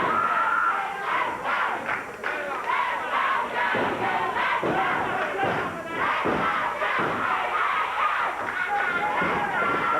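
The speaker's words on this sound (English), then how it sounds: "Got a great crowd has joined us today for CWA Wrestling." A large wrestling arena crowd at a CWA championship wrestling event in Memphis cheers and shouts continuously, with loud roaring, yelling and occasional thuds, the din staying dense and steady throughout.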